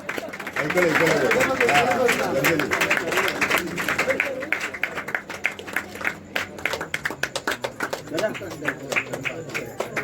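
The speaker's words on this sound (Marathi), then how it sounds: "आज आपली मुलगी नवीन संसार पदार्पण करते तेव्हा अंगठी घालता तिचं स्वागत करूया टाळ्या वाजवून" Guests at a Konkan engagement ceremony clapping to welcome the bride during the ring exchange, loud dense applause that thins into scattered, rhythmic individual claps with chatter and talk underneath.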